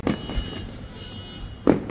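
New Year fireworks in Calgary heard from a distance outdoors, a few muffled booms and thuds spaced apart amid low ambient noise.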